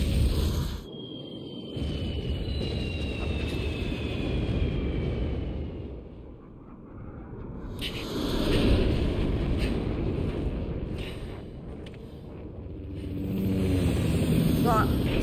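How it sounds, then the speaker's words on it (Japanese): Bombing in the Crisis Core Final Fantasy VII Reunion video game rumbles as swelling, heavy explosive roars rising and falling in waves, with a whistling descent early on and a speaking voice at times over the blasts. "爆撃やばいんだこれ"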